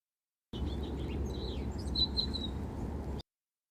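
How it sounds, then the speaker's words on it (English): House finch calls recorded in the wild: bright, high chirps and short warbled notes repeat over a steady low rumble of outdoor background noise, fairly close and clear, with no talk. "The bird calls were recorded in the wild"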